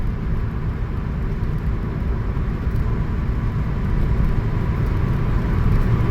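A 51,000-mile Hyundai Tiburon fresh from a timing belt and full tune-up, driven hard on a road: a steady, dense engine and road roar heard from inside the car, swelling slightly partway through, with no talking.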